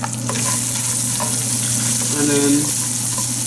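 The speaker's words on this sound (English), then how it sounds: "I'm going to put the garlic and ginger mixture with the oil" Garlic and ginger mixture hitting hot oil, sizzling and crackling steadily with some stirring scrapes, close and fairly loud, with a couple of brief spoken words over it.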